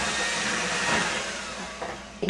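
An electric mixer whirs steadily through cinnamon roll batter made with three-quarters of a cup of melted real butter, a loud, even motor drone with a couple of brief bumps near the end.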